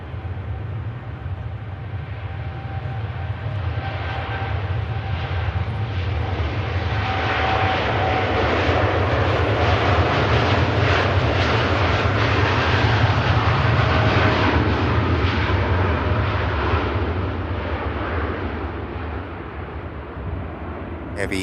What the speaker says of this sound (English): Heavy TUI Dreamliner heads out to Punta Cana.